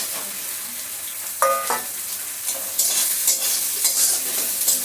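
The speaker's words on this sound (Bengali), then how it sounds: "সয়াবিনটা ভেজে নিচ্ছি।" Soaked, drained soya chunks frying in white oil, giving a steady close sizzle with stirring scrapes and a brief clink of a utensil, the crackle growing brighter in the latter half.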